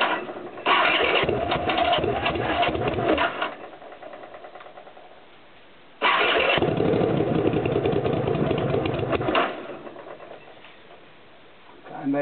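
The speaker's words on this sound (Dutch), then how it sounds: "Ik ga het kijken of ik kan starten voor je." Honda CX500 cafe racer motorcycle engine cranks and catches twice, each start settling into a steady rumbling idle before cutting off, close and loud with no talk.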